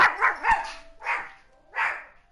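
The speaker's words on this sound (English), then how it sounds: "Pardon my puppy." A puppy barks in three sharp, close bursts, the first a quick double yap, followed by two separate louder barks with short pauses between them.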